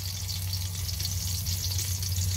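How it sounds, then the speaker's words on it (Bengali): Chopped onion and green chili frying in oil with cumin in a cooking pot, a dense, even sizzle that stays loud and close throughout. "পেঁয়াজ কাঁচামরিচ ভালোভাবে ভেজে নই।"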